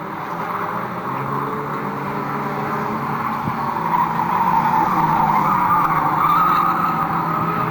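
A stock rod race car slides very sideways through a corner at a raceway, its engine roaring loud and steady with tire scrub rising over several seconds.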